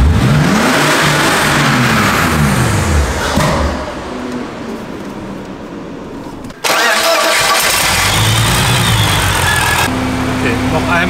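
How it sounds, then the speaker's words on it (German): BMW E46 fitted with both a turbocharger and a supercharger, revved hard on about 15 psi of boost: loud rising and falling engine revs close by, a sudden cutoff, then more revving and idling, with people talking throughout. "Schauen wir mal, der Motor geht nicht platt."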